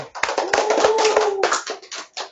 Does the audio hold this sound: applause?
yes